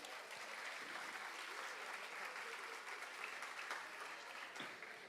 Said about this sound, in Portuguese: Dê uma salva de palmas aí,